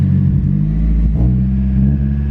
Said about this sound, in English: And if I give it a throttle blip